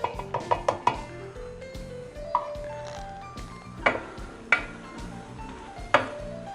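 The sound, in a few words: stirring flour into softened vegetables in pot for chowder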